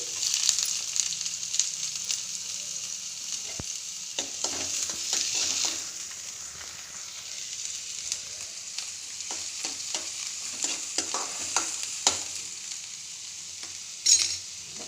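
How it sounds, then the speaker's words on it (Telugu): Sliced onions with cinnamon, cloves and cardamom frying in ghee for a cauliflower curry, a steady bright sizzle with repeated scrapes and clicks of a spoon stirring throughout, close and without talk. "అందులోకి ఎర్రగడ్డలు వేసి వేయించుకోవాలి"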